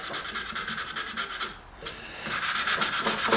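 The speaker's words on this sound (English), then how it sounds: "Lots of little nooks and crannies to sand" Sandpaper is worked by hand over the metal casting of a Stanley plane in quick rhythmic back-and-forth strokes, close and scratchy, with a short pause before the strokes resume.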